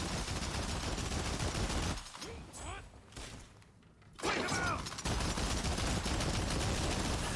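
Gunfire and clashing combat in the Rise of the Ronin video game, a dense rattle of shots before and after a brief quieter lull, with a voice speaking over it.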